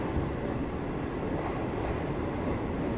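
A diesel-hauled Devgiri Express running with ICF coaches after departing Selu station, giving a steady, continuous rumble of wheels and engine close by, with no voices.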